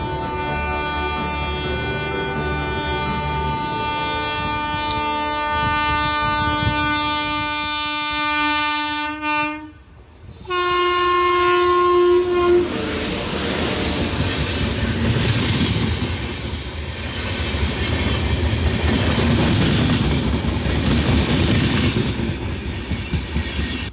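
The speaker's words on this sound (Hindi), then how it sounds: "ये ट्रेन थी इंदौर अमृतसर एक्सप्रेस।" The Indore Amritsar Express passes near Deoband, opening with a long, loud, sustained horn blast that breaks off and then resumes before the heavy rumble and rhythmic clatter of the wagons rolling close by.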